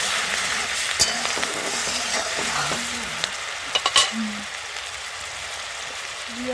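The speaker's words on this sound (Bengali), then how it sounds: "ওই তেলে দিয়ে দেবো পেঁয়াজ বাটা" Onion paste frying in hot oil for a Bengali egg kofta curry gives a steady close hiss and sizzle, with a few sharp spatters and clinks, while someone speaks quietly over it.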